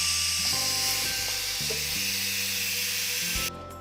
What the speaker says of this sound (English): So I'm gonna go ahead and turn the steam thing to depressurize it.